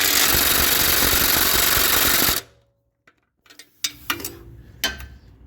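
An impact gun hammers at the exhaust manifold nuts on a 2001 Chevrolet, a loud continuous rattling burst that stops abruptly, followed by quiet scattered clinks and taps of tools.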